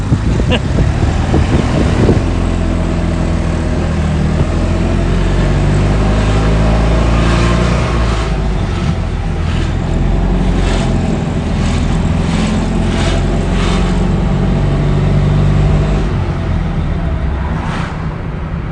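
A 1987 Fiat 126p micro car driving, its small engine droning loud and close throughout with shifting revs, and brief talk inside the cabin.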